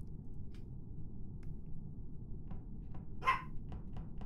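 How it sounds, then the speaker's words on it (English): A dog gives a single sharp bark at moderate distance, standing out over a low steady background hum, with a few faint clicks around it. "Oh, it's a dog. Did you hear that?"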